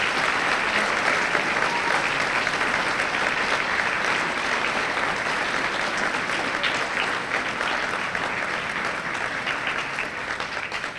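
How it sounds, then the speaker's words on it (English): Sustained, dense applause from an audience at a teacher awards ceremony honoring award recipients, steady and loud throughout and tapering slightly toward the end. "Please give all of these dedicated folks a round of applause."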